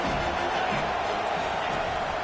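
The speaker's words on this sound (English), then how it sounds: "this crowd is turning it up a notch" A football stadium crowd roars in a continuous dense wash of cheering and yelling, loud and sustained without breaks, with no distinct voice standing out.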